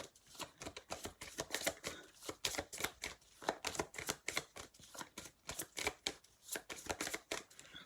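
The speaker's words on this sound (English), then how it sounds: "I'll do 3 more shuffles." Tarot cards being shuffled by hand, a quiet, close run of rapid rhythmic riffles and soft slaps repeating in regular bursts with no talking.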